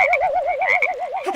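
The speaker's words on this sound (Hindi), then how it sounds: "कुंभकर्ण को उठाने मेंढक आ गया।" A cartoon frog gives one loud, warbling croak, a rapidly wavering tone that pulses evenly for just over a second, close and alone.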